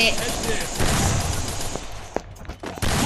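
Gunfire in a Free Fire clash squad match crackles in bursts of loud shots with a busy game background, fading toward scattered sharp reports near the end.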